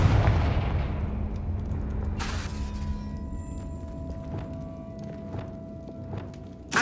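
A Confringo spell blast in Hogwarts Legacy goes off with a deep, loud boom that slowly decays, followed by a sharp crack and scattered smaller knocks and debris-like clatters.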